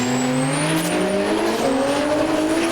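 Fensport Toyota Corolla drag car powering down the strip, a loud close engine scream with rising pitch as it accelerates hard, continuous throughout with a faint high tire squeal.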